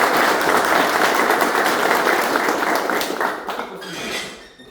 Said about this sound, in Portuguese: dessem uma salva de palmas para vocês, porque vocês merecem.